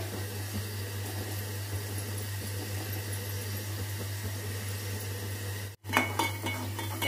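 Spoon stirring chicken masala in a cooking pot, soft scraping and clinking of metal over a steady stove hum, with a brief gap before louder clatter near the end.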